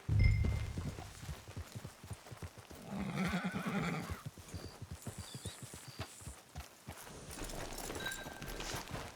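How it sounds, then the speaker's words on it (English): A horse in the video game Red Dead Online whinnies and snorts while its hooves clip-clop in a steady walking rhythm, fairly close and moderately loud, alone without talk. "Get your horse."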